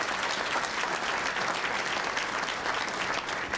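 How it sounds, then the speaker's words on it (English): Sustained applause from a crowd at a sports hall of fame induction ceremony, an even, continuous wash of many clapping hands heard throughout without speech. "I'd just like for all of you to give that table a round of applause"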